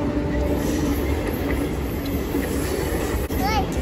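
Train running through a railway station on an Indian Railway express route, a loud continuous rumble with wheel noise and a brief high squeal near the end, with voices heard over it.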